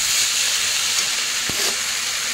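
Lentils sautéing with onion, dried chili and cumin in a pan give a steady, loud, close hiss of sizzling, continuous throughout with one brief soft knock partway through and no talk.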